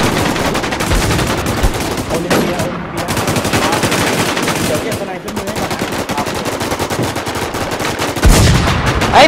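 Sustained rapid automatic gunfire in the survival shooter Infestation on the Rocky Ford map, loud and dense throughout with only brief gaps, plus a heavier burst near the end.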